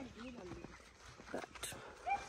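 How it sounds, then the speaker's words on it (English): Dogs bark intermittently at a rural South African homestead, a few short yips rising under close, steady conversation near the start and fading as the talk continues. "Oh, it was dogs that were barking."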